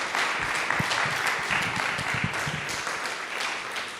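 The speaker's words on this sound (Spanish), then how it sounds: "Vamos a hacer una ofrenda de aplauso al Eterno por el siervo que nos ha traído." A church congregation gives a sustained round of applause, many hands clapping in a dense, steady wash, with a few sharper individual claps and faint voices mixed underneath.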